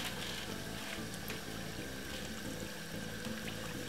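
Water from a can being poured into a pot while frying chicken, a continuous splashing, gurgling pour with a sizzling hiss underneath, close and steady.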